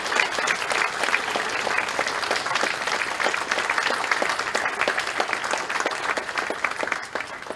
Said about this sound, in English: give the conference team a big round of applause